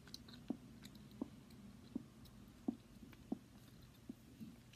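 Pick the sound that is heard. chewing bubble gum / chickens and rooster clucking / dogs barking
chewing bubble gum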